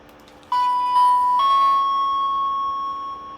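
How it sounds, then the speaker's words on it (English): Power Rangers Zane's Digimorpher toy switched on, emitting a few quick electronic chimes that settle into a sustained, shrill electronic tone held for several seconds. "it does make an obnoxious sound the longer you have the morpher on"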